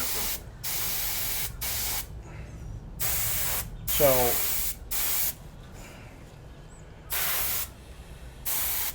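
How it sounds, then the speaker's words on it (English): Airbrush spraying a paint finish in bursts of steady hissing, about six sprays with short pauses between, close by, and a brief spoken word partway through. "like any airbrush project, you start moving before you hit the part, push the button"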